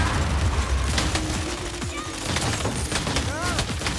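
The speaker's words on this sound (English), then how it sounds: "I've got the flash rocket ready!" A flash rocket fires in a video game amid dense layered blasts and gunfire-like bursts, with rising whistles near the end, continuous and loud throughout.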